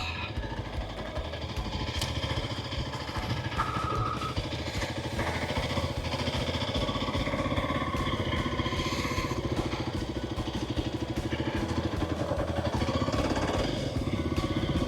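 A dual sport motorcycle rumbles along at slow speed, its engine putting out a continuous close chugging drone with slight throttle swells and faint clatter throughout.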